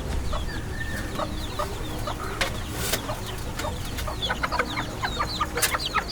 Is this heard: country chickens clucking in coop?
yes